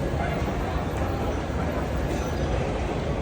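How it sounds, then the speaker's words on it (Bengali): A moving train at a Sydney station, a broad steady rumble and rush of wheels and carriages that stays loud and even throughout, with faint voices blended into the noise. "চলন্ত ট্রেন।"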